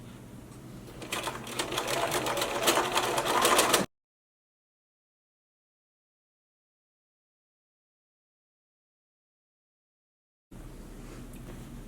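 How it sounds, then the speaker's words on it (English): A sewing machine fitted with an invisible zipper foot stitches in a rapid, buzzing run for a few seconds, then everything goes silent before faint room sound returns. "I have the invisible zipper foot back on my machine and I am going to sew not right up."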